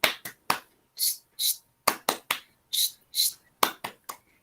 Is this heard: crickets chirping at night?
no